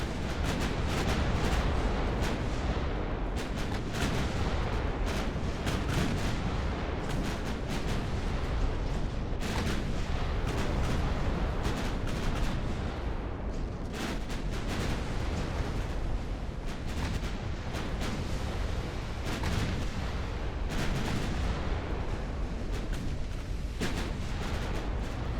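Continuous battleship naval gunfire with armor-piercing rounds in the naval warfare game Ultimate Admiral: Dreadnoughts, a dense rumbling barrage of booms and blasts sustained throughout at steady loudness, with no voices.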